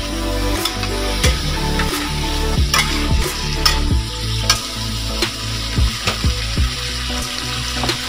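Long beans and sardines frying in a pan, a steady loud sizzle with repeated clanks and scrapes of stirring throughout.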